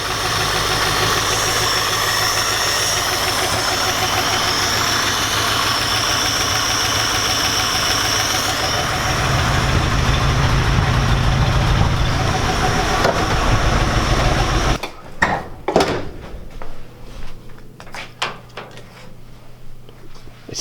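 An old vintage truck engine with a loose belt idles for about fifteen seconds in a steady, close, loud mechanical drone, then shuts off abruptly, leaving a few scattered clunks.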